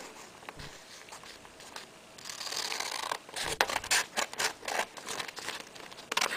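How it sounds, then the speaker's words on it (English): Scissors trimming excess origami paper to make a square, quiet at first, then a run of crisp snipping and rustling strokes in uneven bursts, close by with no talk. "you can cut off this excess paper so that we have a square piece of paper"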